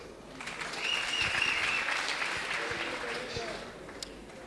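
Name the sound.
audience applause at comedy show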